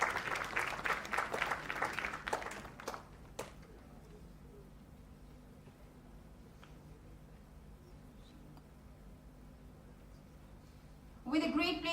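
A conference audience applauds in a full burst of clapping for about three seconds, then goes quiet before a second round of clapping starts near the end.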